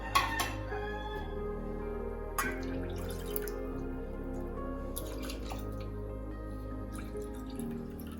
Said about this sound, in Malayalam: കുറച്ചുകൂടി വെള്ളം ചേർത്ത് കൊടുക്കാം.